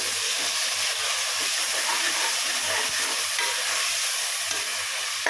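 Mutton cooked with gongura leaves hisses in a pan on a low flame as it is mixed, a dense, even sizzle with a soft stirring rhythm and no voices.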